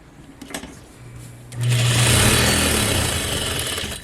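Juki DDL-8700 industrial sewing machine running, with a few quiet clicks and handling noises, then the motor starts at about one and a half seconds into a loud, steady, fast stitching whir that lasts to the end.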